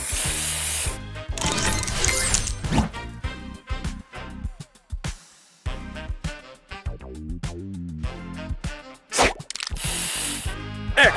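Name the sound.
spray booster in Mutation Lab video game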